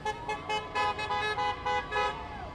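Car horns honk outdoors at a street protest of striking workers in Nashville, sounding several short, fairly loud toots in a quick uneven series over traffic noise.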